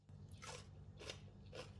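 Three crisp crunching bites into homemade sour, spicy pickled green chillies, close and evenly spaced over a low steady background.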